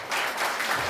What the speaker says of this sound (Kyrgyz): Мына туугандар кандай соң кол чаап койсоңуздар болот меймандар.